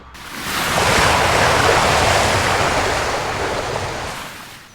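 Water in Garry's Mod sloshes and rushes in a broad wash that swells quickly, holds steady, and then fades slowly. It is loud and continuous, with no voices.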